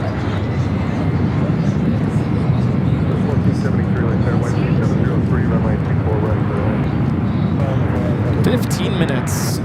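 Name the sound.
Boeing 757 airliner departing LAX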